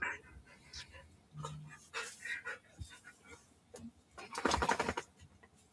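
A dog pants after chewing a marrow bone, with quick, uneven breathy bursts close by that grow louder near the end, over low background noise and faint voices.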